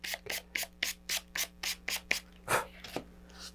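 Sandpaper rubs back and forth over a stiff paper-covered model rocket fin saturated with super glue, in about ten quick, even, close-up strokes.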